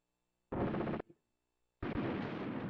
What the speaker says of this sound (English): Oh, we're both using the 20 millimeter cannon.